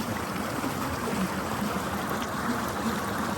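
River water runs through a rainforest in the Dominican Republic, making a steady, broadband rushing and trickling flow that stays even throughout, close and moderately loud, with no voices.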